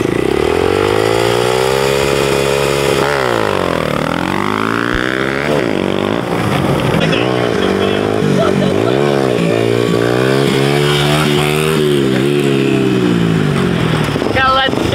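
A 125 motorcycle revs hard before a launch at the Breezewood Proving Grounds, its loud, raspy engine sweeping up and down in pitch through repeated throttle blips, sustained and close throughout.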